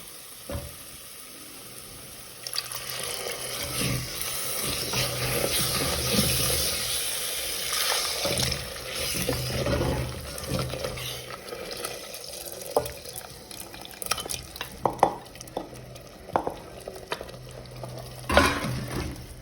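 Mutton pieces dropped into roasted onion-coconut masala in a clay pot and stirred, giving a steady sizzle with scraping, wet stirring clatters and a few sharp knocks on the pot, no talk.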